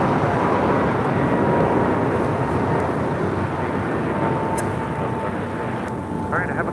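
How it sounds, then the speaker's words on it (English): An American Airlines A321neo airliner takes off from LAX bound for Lihue, a loud, steady broadband jet roar sustained throughout, with faint voices in the background. "This is American Airlines 265 taking off to Lihue on an A321neo"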